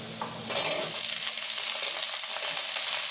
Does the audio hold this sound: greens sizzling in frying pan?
yes